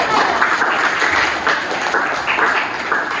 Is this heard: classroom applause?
yes